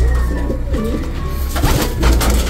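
Dozens of pigeons coo in a loft holding nearly 500 birds, their overlapping low, rolling calls rising and falling steadily over a constant background hum, fairly close and loud with no talk.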